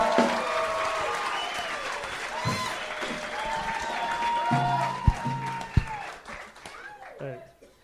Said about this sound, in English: Come on, give him a fucking round of